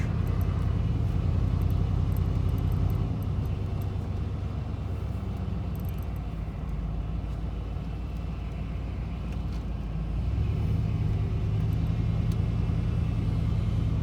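A vehicle engine rumbles steadily while driving around, a loud, continuous low drone with slight shifts in load and no talking.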